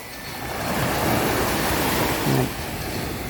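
Surf washing onto the only beach on Ko Si Chang island, a steady broadband wash of waves rolling in with a slight swell midway, no voices.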